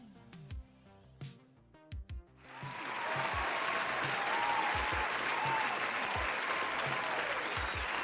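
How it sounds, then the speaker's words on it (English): A small group at a homebrew gathering breaks into sustained clapping after a few scattered claps, the applause holding steady to the end. "let's give Snotty a round of applause."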